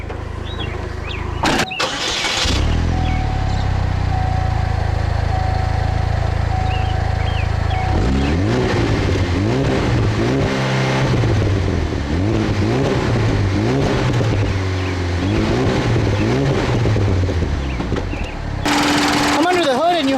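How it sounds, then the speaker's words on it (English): A 2008 Chevrolet HHR SS's 2-liter direct-injection four-cylinder engine idles low, then revs repeatedly, climbing and falling in pitch several times, loud and close, with a brief rise and drop before the revving. "This is Chevrolet's 2-liter direct injection 4-cylinder engine from the Cobalt SS"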